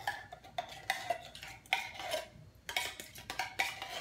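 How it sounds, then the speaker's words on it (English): Chicken broth and soup being stirred together in a dish for a chicken pie, with repeated scraping and clinking strokes of a utensil against the container in close, quiet bursts. "We're gonna mix it up."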